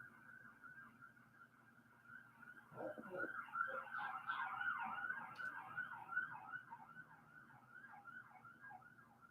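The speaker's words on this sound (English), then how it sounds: "Now we got sirens." A distant siren wails in a rapid, rising and falling pattern, faint and steady, with a soft thump partway through.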